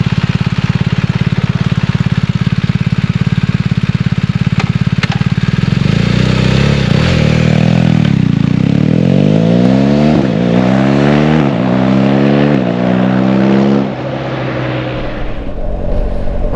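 A 2022 BMW R1250GS motorcycle riding along country lanes, its engine droning loud and steady, then revving up and down through several gear changes with rising and falling pitch, with no voices.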